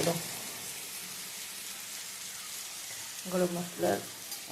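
Spices sizzle steadily in a hot pan as they are sautéed with garam masala powder, a soft continuous fry with a few brief bursts of stirring scrapes near the end.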